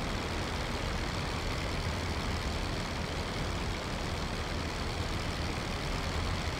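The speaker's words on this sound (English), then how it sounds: "Getting a smidge more performance out of my engine." A WWI aircraft engine in the Rise of Flight video game, with the fuel mixture leaned out, drones in a steady, loud, unbroken rumble heard alone.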